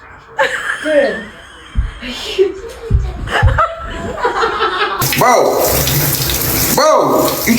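Water runs from an indoor tap in a steady stream that rises louder toward the end, with a dog lapping and splashing at it while a person laughs and talks close by.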